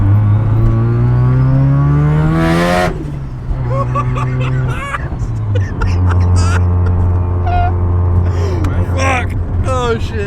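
A Mazda FC RX-7 with a three-rotor rotary engine roars and revs up on a race track, pitch rising before dropping sharply, then settling into a steady loud drone with people talking over it.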